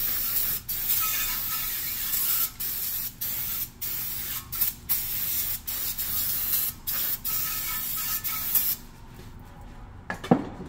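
Aerosol brake cleaner is sprayed onto the front brake parts of a Toyota RAV4, a steady close hiss broken by brief pauses, ending with a light clank.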